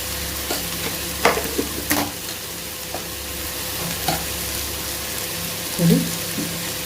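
Pumpkin masala frying in a pan, a steady soft sizzle broken by a few scraping stirs and light clinks of a spoon, close and moderate in level, with no speech.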